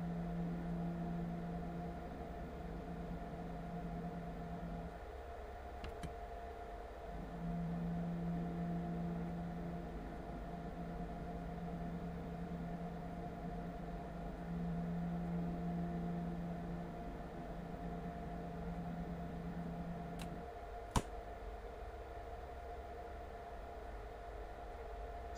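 Train Sim World 3 train easing into platform 1 on the Starlight Express run, a steady low rumble and drone with repeating tonal hum, a couple of faint clicks and one sharp knock near the end, no voices.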